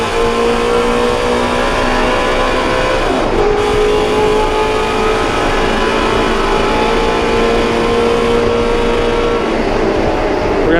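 A Ford Mustang GT350 pulls hard in second gear around the Circuit of the Americas, its engine loud and close with a rising, sustained roar and a brief dip as the revs shift.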